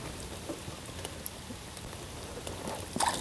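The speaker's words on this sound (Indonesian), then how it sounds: "hujan-hujan besar" Steady rain hiss pattering throughout during a snapper fishing trip, with a few brief louder knocks and splashes near the end; no talking.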